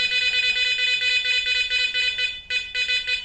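A Garrett Ace Apex metal detector sounds a continuous, bright, high-pitched tone that cuts out briefly near the end before resuming, loud and steady, with no voices.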